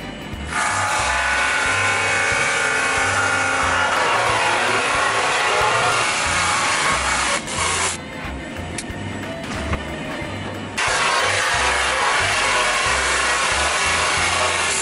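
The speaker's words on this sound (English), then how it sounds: "decided just to run these walnut pieces for this coffee bar through the drum sander a little bit" A drum sander grinds over walnut pieces with a loud, continuous rough roar, easing briefly to a lighter whir as one board clears before the heavy sanding resumes, with no voices.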